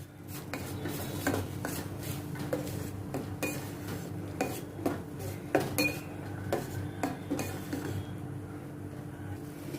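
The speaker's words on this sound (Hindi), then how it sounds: "इन सभी को अच्छी तरह से मैं ये टमाटर और जिंजर गार्लिक के साथ सौते करती हूँ" Metal utensil scraping and clinking against a pan while tomato, ginger and garlic are sautéed with spices, a busy run of irregular knocks and scrapes close by, no voices.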